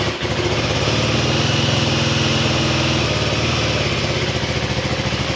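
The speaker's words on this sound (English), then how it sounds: "Let's get the bike fired up." A KTM 390 Adventure R motorcycle single-cylinder engine fires up and settles into a steady, loud idle, a continuous close-up throb with an even rhythm and no talk.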